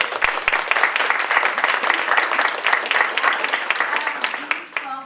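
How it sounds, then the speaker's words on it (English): Applause at a school board meeting honoring a classified employee of the year, a dense burst of many hands clapping close by for about five seconds before fading out. "please give her a round of applause"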